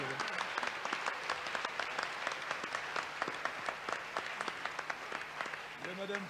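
A TV game show audience applauds a woman contestant with a dense, rhythmic wash of clapping, while voices talk over it throughout.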